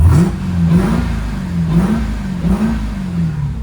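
A 2025 Dodge Durango Hellcat with a Borla exhaust revs repeatedly, its engine note rising and falling in steady swells, loud and close with a deep droning rumble and no voices.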